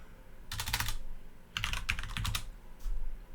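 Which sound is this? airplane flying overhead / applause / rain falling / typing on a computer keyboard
typing on a computer keyboard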